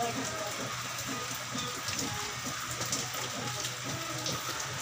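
Steady rain falls on a concrete-slab formwork site where wooden props and shoring poles are being set up, a continuous broadband hiss with scattered drips throughout, fairly close and even in level with no talk.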